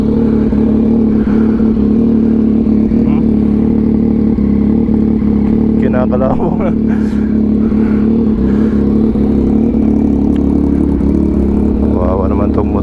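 A motorcycle engine, with a rusty chain, hums steadily through a ride, with a short rise in revs partway through and a person talking over it.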